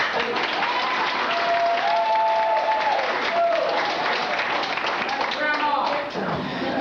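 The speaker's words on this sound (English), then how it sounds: "Applause." Applause and clapping from a family party crowd at a Mother of the Year celebration, steady and fairly loud throughout, with voices talking over it and some whistle-like tones.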